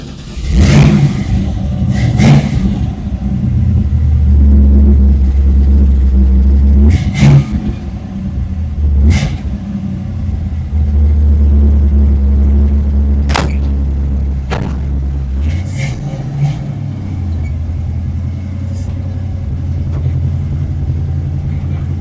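Carbureted engine firing up and revving, a loud close low rumble with repeated blips of the throttle rising and falling over about twenty seconds, a few sharp knocks in between, and no talking.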